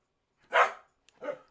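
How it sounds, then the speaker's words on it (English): Two short corgi barks, the first louder and sharper, the second a bit softer, close by with silence around them. "I don't need corgis barking at me"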